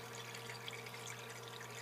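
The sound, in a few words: water swirling in a vortexing device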